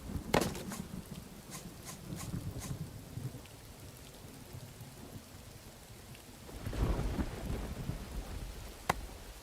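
Rain patters steadily in the Rising World video game, with several sharp thunder cracks early on and a deeper rumbling roll later, fairly faint and without any voices.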